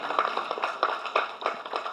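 An audience gives rhythmic clapping in tribute to actor Vivek, a small crowd of hands beating in loose pulses at close range.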